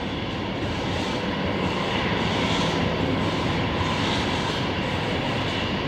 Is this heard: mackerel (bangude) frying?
no